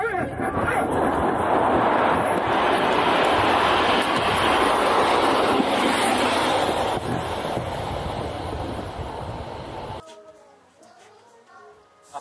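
A rail sled rolling along its track at a Jeju tourist spot, a loud steady rumble and rattle that dominates for about ten seconds, then drops away abruptly to quieter background with faint voices.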